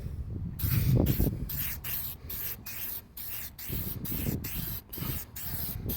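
Meguiar's headlight coating sprayed onto a car headlight in a rapid series of short hissing bursts, close and fairly quiet, with no talk.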